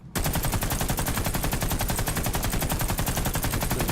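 Sustained automatic fire from a submachine gun in the shooter game Warface, a loud, steady stream of rapid shots at an even, moderately slow cadence running unbroken for several seconds.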